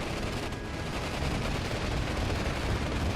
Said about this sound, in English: see all the anti-aircraft guns going off, trying to shoot down them bombers